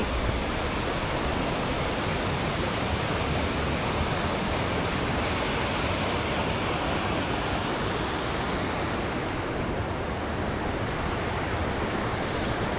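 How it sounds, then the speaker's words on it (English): A waterfall in the mountains at Hakone, Japan, on a cloudy day, roaring as a dense, steady wash of rushing water that stays loud and unbroken from start to finish, with no voices. "and the sound of the waterfall. It's amazing."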